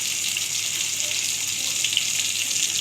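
Tomato frying in a pan of hot oil, a steady bright sizzle close up and fairly loud, continuous with no pauses and no talking.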